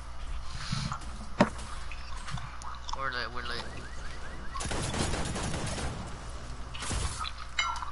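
Bursts of video game gunfire, rapid shots and sharp cracks at moderate loudness, mixed with game sound effects and people talking over them.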